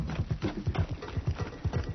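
Heavy, fast footsteps of a pursuing jogger in a horror audio drama: about eight close, thudding steps in a steady running rhythm, with nothing else over them.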